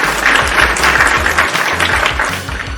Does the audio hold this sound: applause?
yes